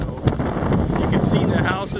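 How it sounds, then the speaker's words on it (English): Strong wind on a blustery day in Valparaiso, Chile, roars steadily across the microphone as loud, rumbling buffeting with a few sharper gusts. "it's a windy day"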